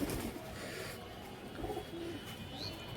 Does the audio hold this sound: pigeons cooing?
yes